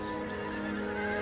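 A horse neighs up close in a single sustained whinny lasting just over a second, its bright shaky harmonics riding over faint background noise, with no voices.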